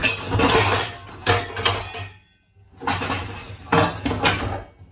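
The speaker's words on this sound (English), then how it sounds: "I organize the pots and pans, and then they unorganize." Metal pots and pans clinking and clattering as they are organized in a kitchen cupboard, two bursts of busy close-up rattling and clanks separated by a short pause.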